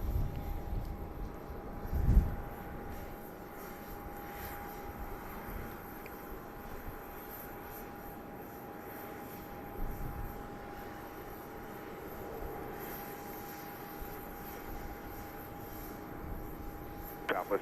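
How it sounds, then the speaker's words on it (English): A Southwest Boeing 737 MAX 8 jet at Dallas Love Field gives off a faint, distant engine rumble and steady whine beneath quiet outdoor ambience, with a few soft thumps. "Looks like Flight 561 to Atlanta, a MAX 8"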